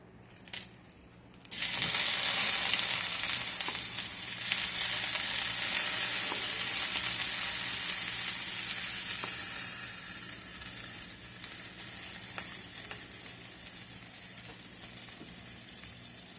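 Green peppers, thawed from frozen and rinsed, hit a hot iron skillet and start sizzling loudly at once, a dense steady frying hiss that slowly eases with a few sharp pops and no talking.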